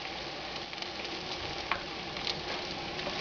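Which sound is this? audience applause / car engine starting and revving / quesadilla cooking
quesadilla cooking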